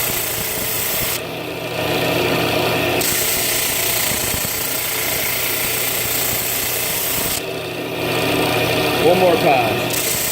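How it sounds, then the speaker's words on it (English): A power sander runs over wood with no dust collector attached, a loud, close grinding rasp that drops in pitch twice as the tool lifts or changes pass, then resumes steadily. "Let me sand without my dust collector on."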